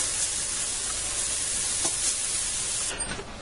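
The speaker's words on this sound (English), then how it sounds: "I'm going to go ahead and load my meatballs in here and get them browned up." Meatballs browning in a pressure cooker pot give a steady, even sizzle throughout, close and fairly quiet, with a few faint clinks near the end and no talking.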